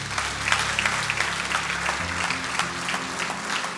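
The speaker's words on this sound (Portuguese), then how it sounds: "Aplauda Jesus bem forte." Church congregation applauding loudly during a sermon service, sustained dense clapping from many hands with a low organ or keyboard tone underneath that shifts partway through.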